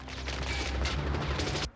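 Film gunfire from a SWAT firing squad scene, a loud dense barrage of overlapping shots that rattles on steadily for under two seconds and then cuts off abruptly.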